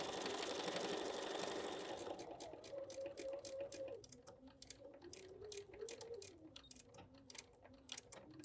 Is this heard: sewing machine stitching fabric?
yes